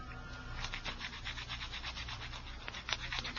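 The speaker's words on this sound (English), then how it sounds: "She sat on the sofa filing her fingernails while we talked to her." Fingernails filed on a sofa, a steady rhythmic rubbing and rasping of short strokes, fairly close and moderately quiet, with no talk over it.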